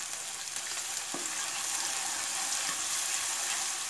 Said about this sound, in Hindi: गैस मीडियम करेंगे, 2 चम्मच जिंजर गार्लिक का पेस्ट डालेंगे।